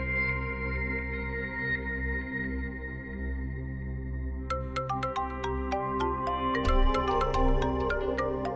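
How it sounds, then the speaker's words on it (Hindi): A phone rings late at night in a Pakistani TV drama scene, a bright electronic ringtone with repeated sharp tones entering midway over a steady background music bed, moderately loud. "ये इस वक्त क्यों फोन कर रहा है?"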